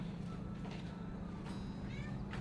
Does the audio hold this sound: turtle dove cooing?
no